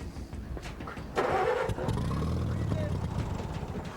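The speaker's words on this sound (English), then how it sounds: "And the Motorheads are sure to lose if Guy can't get the tractor started" A tractor engine on a junkyard build is cranked and catches, the starter grinding briefly before a rough, loud mid-pitched idle settles in close by, with people talking over it.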